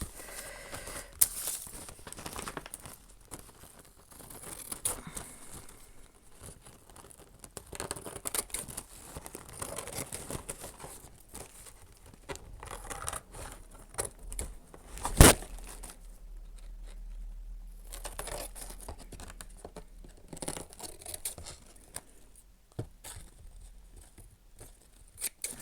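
Scissors cut slowly around a paper napkin for a journal, giving soft intermittent snips and crinkling paper handling close by, with one sharp louder crunch partway through.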